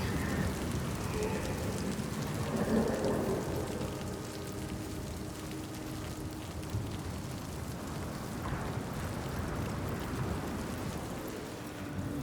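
Stormy rain in the video game Senua's Saga: Hellblade 2, a steady broadband wash of downpour with low rumbling underneath, holding at an even level throughout with no talk.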